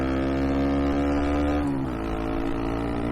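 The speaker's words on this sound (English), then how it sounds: "So I'm going to pin the throttle now." A 2019 Honda Monkey motorcycle engine held at full throttle, a loud steady drone close to the rider that drops in pitch briefly as it shifts gear, then carries on pulling.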